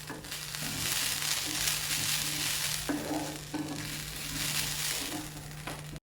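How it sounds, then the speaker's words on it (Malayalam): Grated coconut roasts with fennel in a pan, giving a steady dry sizzle broken by scraping stir strokes at close range, with no one talking. "ഇത് ഇത്രയും ആദ്യമേ നമുക്ക് നല്ലതുപോലെ ഒന്ന് വറുത്തെടുക്കാം."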